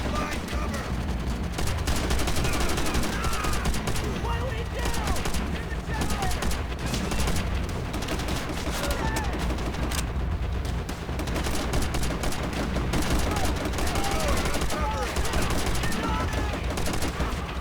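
Gunfire in Call of Duty: World at War, a continuous, dense battlefield barrage of overlapping rifle and machine-gun shots with explosions, loud and unbroken throughout.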